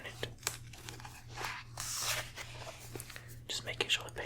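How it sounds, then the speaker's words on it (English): Book pages are handled and turned during a whispered ASMR reading, with soft crinkles and one longer rustling sweep in the middle, close and quiet among scattered faint whispers. "Just making sure the paper's not too loud."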